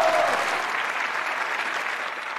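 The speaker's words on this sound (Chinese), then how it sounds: "我们掌声继续送给来自于哈萨克族的小伙子" An audience applauds to welcome a young Kazakh fighter at a strawweight combat tournament, producing a dense, steady wash of clapping that carries on for a couple of seconds with no talk over it.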